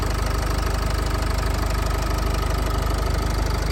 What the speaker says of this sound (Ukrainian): послухайте, як собі працює мотор